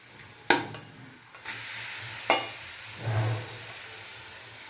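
Tomato frying with mushroom masala in a pan, a steady low sizzle and hiss under a few sharp clinks and scrapes of a spoon stirring, close by, with no voices.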